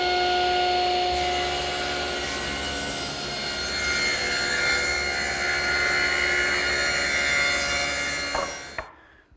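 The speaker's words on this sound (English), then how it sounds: "I can just do that on the table saw" A table saw rips through thick wood for a laminated pedestal table, the blade whining steadily under a continuous loud cutting roar for about eight seconds before the cut ends and the motor winds down into silence.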